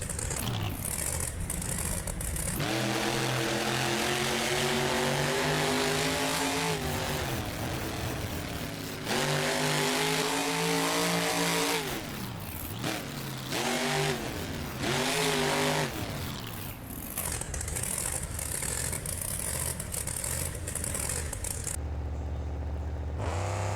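Monster truck Brutus in BeamNG Drive revving hard at a Monster Jam freestyle event in Atlanta, a loud sustained engine roar that rises and falls in repeated pitch sweeps, with brief dips and clatter between bursts.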